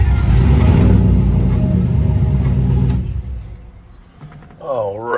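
A Chevrolet Silverado's lopey engine, a loud, close, uneven low rumble idling and revving for about three seconds before it drops away, with someone talking briefly over the quieter end.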